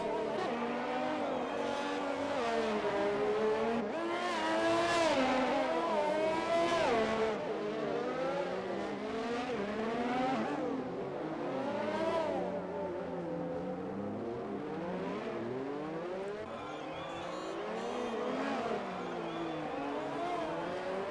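Onboard engine of a Ferrari Formula 1 car lapping Monaco, a high screaming motor rising and falling through gearshifts and braking for corners, loud and steady throughout.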